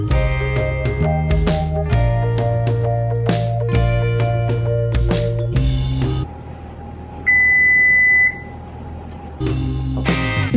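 A kitchen oven signals it has preheated to 350 degrees with a single sustained electronic beep lasting about a second, set against a louder musical background that drops away around it.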